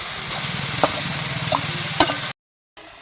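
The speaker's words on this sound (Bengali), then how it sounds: "আলু আর ডুমুর নাড়তে নাড়তে জলটা শুকিয়ে নিতে হবে।" Potatoes and fig paste fry in a pan with a close, continuous sizzle. Light scrapes and taps from stirring mark the sound, which stops abruptly near the end.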